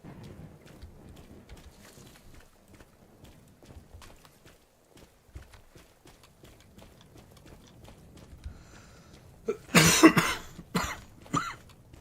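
Faint quiet background, then a cluster of harsh coughs bursts out near the end, close and fairly loud.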